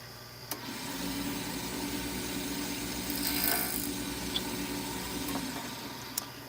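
Wood lathe spun up to about 3,000 rpm, a round carbide tool knocking the corners off a HempWood blank: a steady whirring drone with a brief scraping burst midway and a few sharp ticks, continuous with no talk.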